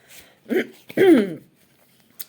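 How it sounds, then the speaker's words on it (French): A short, raspy clearing of the throat in two quick bursts, close and fairly loud, followed by near silence and a faint click. "Pardonnez-moi si je tousse, si je gratte la gorge"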